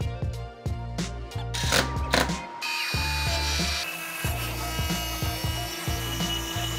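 A CNC machine mills scrap wood for pencils, cutting for thickness: a loud whirring spindle drone with rising and falling pitch, broken by grinding bursts as the cutter bites, steady and close with no talk.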